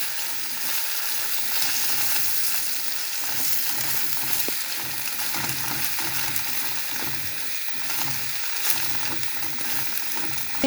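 Egg being stirred into noodles frying in a pan, a continuous close sizzle with repeated rhythmic stirring scrapes and occasional clinks of the utensil, no voices.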